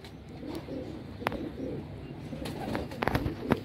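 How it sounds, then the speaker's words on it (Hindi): Pigeons kept by a fancier coo softly in a loft, with scattered low calls and a few sharp clicks and flutters nearby, no talk over them. "ज़बरदस्त अच्छा कबूतर है दोस्तों ये भी"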